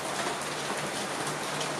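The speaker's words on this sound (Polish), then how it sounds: "Zaczął deszcz padać." Rain beginning to fall, heard as a dense, steady patter of drops hitting a surface. The rain stays loud and even throughout the brief stretch, with no voices.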